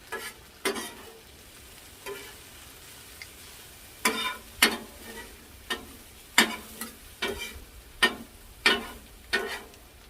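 Bacon sizzles on a flattop griddle during a Saturday brunch cook, with a steady low fry broken by sharp, irregular scraping or stirring bursts close by. No one speaks.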